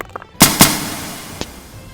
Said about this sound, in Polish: Czemu Deda mnie strzela